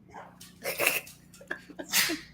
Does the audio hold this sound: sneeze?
yes